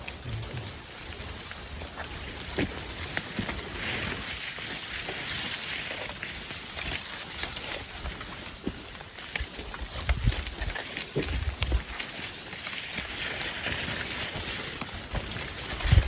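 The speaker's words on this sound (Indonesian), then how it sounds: "ada rintik-rintik dari daun ya yang netes bekas hujan" Rain droplets dripping from leaves onto a wet mountain trail, dense irregular patter of drops, close and fairly soft, continuous throughout.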